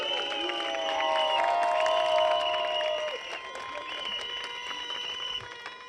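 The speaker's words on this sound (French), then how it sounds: "Applaudissez pour les combattants d'amour." Applause and cheering from an audience at a political meeting, a steady mass of clapping that swells in the middle and then thins, with no speech over it.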